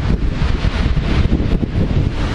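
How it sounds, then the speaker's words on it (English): Strong wind roars and buffets the microphone beside the ocean, a continuous loud rush with gusting surges and faint surf beneath, no voices. "It's so windy out here, man."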